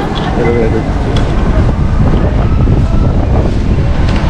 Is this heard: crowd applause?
no